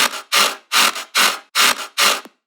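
Main layer of a heavy dubstep riddim lead bass: six loud, rasping, distorted bursts in a steady rhythm, each a swelling growl separated by brief silences, with nothing else playing.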